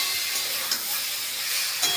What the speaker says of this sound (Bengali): ভালো করে মশলাটা কষে নিয়েছি